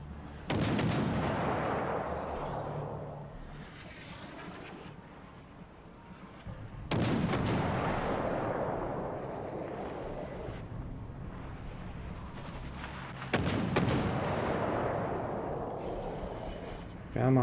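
Warship guns firing in World of Warships: Legends, three heavy booming salvos spaced several seconds apart, each followed by a long rumbling decay, loud and close beneath a speaking voice.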